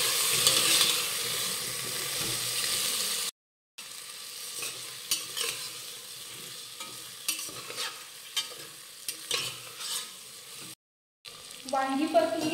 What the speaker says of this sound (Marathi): आता ही वांगी परतून घेऊयात।